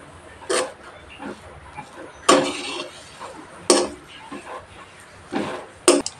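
Freshly ground garam masala and spices being mixed into dough in a bowl for Rajasthani masala bati: a few spaced clinks and knocks of a utensil against the bowl over soft scraping.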